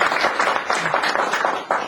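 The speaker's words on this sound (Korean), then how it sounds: "박수 한번 보내주세요" A crowd at a CEO-course graduation ceremony claps for its chairman, a brief burst of dense, overlapping handclaps with a few louder swells, close and steady throughout.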